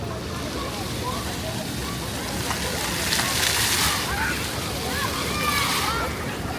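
Kids splash and play in a city splash pool on a hot day, giving a steady wash of spraying and splashing water with faint voices in the background throughout.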